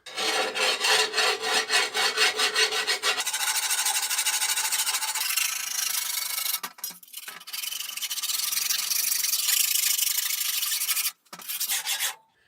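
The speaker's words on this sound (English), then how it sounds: "I'm going to take my metal file, place it on a flat surface, place the blade on a flat surface, and then I'm going to work away the burrs" A metal file works the burrs off a sword blade laid on a flat surface. Close, loud rasping strokes run for about twelve seconds, squealing and rubbing steadily with a few short pauses.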